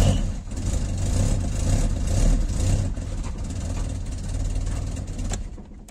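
A Citroën GSA engine running and revving up a little after being started from a rewired ignition switch, a steady low rumble with a mild surge, close and continuous, no talking.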